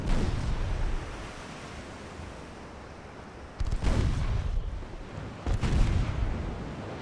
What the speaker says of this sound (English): He actually hit me with a fucking torp.